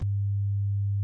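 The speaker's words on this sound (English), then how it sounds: "So normal FM sounds like this." A steady, pure low tone from a Pure Data FM synthesis patch, carrier and modulator both at 100 Hz, holds evenly for about a second with a clean onset and cutoff.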